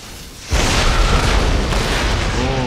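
Artillery fire explodes in an Empire: Total War battle: a sudden loud blast after a quieter opening, swelling into a sustained, roaring rumble that fills the rest of the moment.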